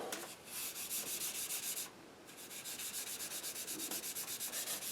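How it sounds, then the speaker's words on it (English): Back-and-forth rubbing of a Scotch-Brite pad along a wooden Native American flute, a steady series of quick abrasive scrubbing strokes close by with one short pause midway, no talk. "this Scotch-Brite, it's making him shine now"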